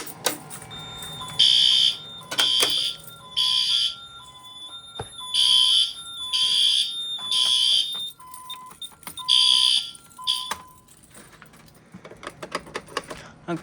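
Honeywell Vista fire alarm system sounding after a pull station is activated: five loud, evenly spaced bursts of high-pitched horn or strobe tones with a steady beeping chirp between them, then faint clicks as it stops.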